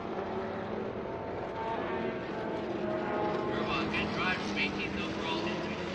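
A 2005 Audi LMP race car at vintage racing at Circuit Of The Americas makes a steady, loud, broad engine roar that stays even throughout, with voices faintly mixed underneath.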